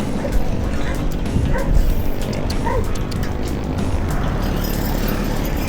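A dog barks in short yips amid steady road and engine noise from a moving vehicle, the barks fairly close and brief over the continuous rumble.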